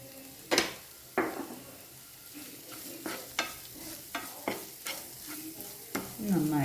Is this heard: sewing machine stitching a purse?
no